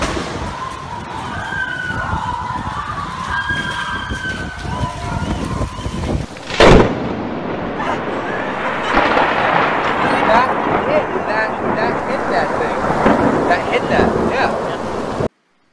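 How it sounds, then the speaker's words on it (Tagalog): During a violent storm a strong lightning strike lands nearby, a sudden sharp crack of thunder cutting through steady wind and heavy rain roar, which keep going after the blast. "At nung makalabas na siya, ay biglang bumagsak ang malakas na kidlat."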